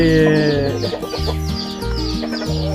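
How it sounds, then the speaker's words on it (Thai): Several chickens cluck close by outdoors in a garden in the morning, a steady, overlapping chatter with repeated short calls and no talking. "นี่เป็นไก่รุ่นนะครับ"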